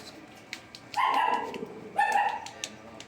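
Dogs at a busy, rainy pet market in Bocaue selling toy poodles and Pomeranians give two short, sharp barks about a second apart, fairly close, with quiet background and no talk.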